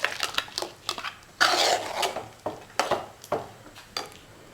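Thick ground coconut paste tipped into a pot of sardine and taro curry, with scraping, stirring and clinking of a utensil against the pot in uneven bursts, close and fairly loud, no talking.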